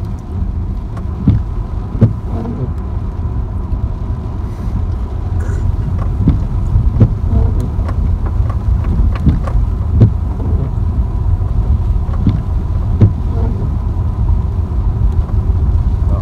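A sedan drives along a bumpy dirt road on the way to a durian farm in Zhong Cheng, Malaysia, with a constant low interior rumble and repeated thuds and knocks as the car jolts over rough ground.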